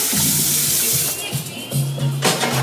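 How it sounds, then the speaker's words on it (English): Kitchen tap running in a quick hand wash while making salmon pasta with asparagus, a loud steady gush with splashing and brief changes in the flow, with voices partly underneath. "I had to wash my hands real quick"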